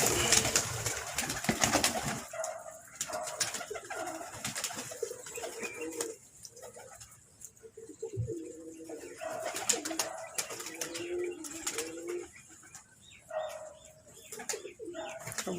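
Pigeons coo softly on a rooftop while being fed grain in the early morning, low repeated coos spread across the flock, with a few other bird calls and occasional background noise.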